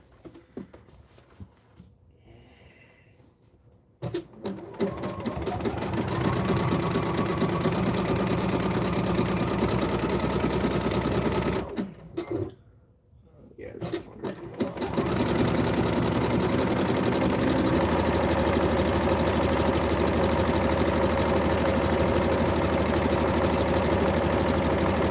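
A sewing machine stitches the finish on wrestling tights, a rapid mechanical chatter that runs loud and steady in long bursts, with a short quiet stretch at the start and a brief pause midway.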